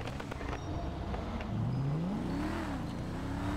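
A Ferrari engine in GTA 5 hums steadily and then rises in pitch as it accelerates, a smooth revving tone over continuous road rumble.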